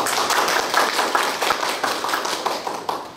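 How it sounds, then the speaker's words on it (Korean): Audience applause at a forum on the printing culture industry in Daejeon, with dense, steady clapping from many hands that carries on throughout without a break. "다시 한번 박수 부탁드리겠습니다"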